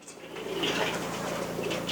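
Pigeons coo steadily from a farm pigeon house, a soft layered cooing of many birds with faint background noise and a murmur that may be a voice.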